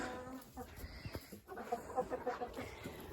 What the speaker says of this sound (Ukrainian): Ось такі півні Мастер Грей